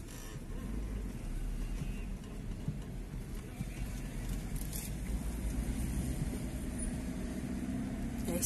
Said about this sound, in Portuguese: mas aqui tem trânsito